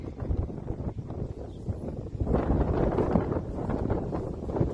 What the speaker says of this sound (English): Low wind.